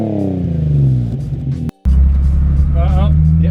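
Engine of a Nissan 350Z starter drift car revving and pulling away, a loud low rumble climbing in pitch with a brief cut at a gear change, then droning on steadily while people talk over it.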